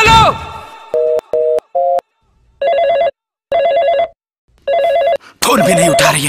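A phone ringing with no answer, a synthetic electronic ring heard as a few short bursts followed by longer repeating warbling pulses, loud and close, with a noisy burst at the end.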